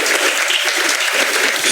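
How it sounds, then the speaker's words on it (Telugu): A church congregation claps loudly in praise of the Lord, a dense, continuous wash of many hands filling the room without a break. "గట్టిగా చప్పట్లు కొడుతూ ఒకసారి ప్రభువుని స్తుతించండి."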